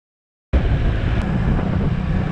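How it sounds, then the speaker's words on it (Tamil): Hot, strong wind gusting across a microphone outdoors near a highway toll gate on a summer morning, starting abruptly as a loud, steady rush of buffeting roar with no pauses. "இப்போவே அனல் காத்து பயங்கரமா அடிக்குது"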